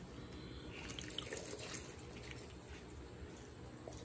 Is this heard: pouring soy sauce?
yes